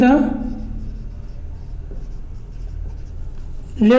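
Pen scratching steadily on paper while a math solution is written out, soft continuous strokes heard close, with a voice speaking briefly at the start and end.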